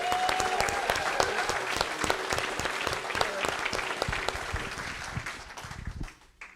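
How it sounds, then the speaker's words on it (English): Audience applause at a film Q&A, a dense burst of clapping with sharp individual claps standing out, sustained and fairly close before tapering off at the end. "can we just have a round of applause for Victor?"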